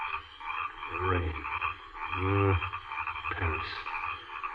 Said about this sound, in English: these eternal frogs will drive me mad. It's the rain that brings them out.